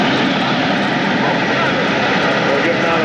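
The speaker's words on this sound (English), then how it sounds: "We're getting on the plane." Aircraft engine droning loud and steady at close range at a small airport, a constant roaring hum with no breaks.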